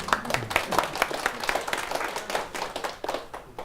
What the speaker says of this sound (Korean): 이 박수는 제 아내에게 바칩니다